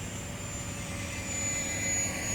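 An E-flite UMX Viper 30mm EDF model jet at full throttle with its gear off, giving a steady, sustained high-pitched ducted-fan whine with broad rushing noise that holds fairly loud and even throughout.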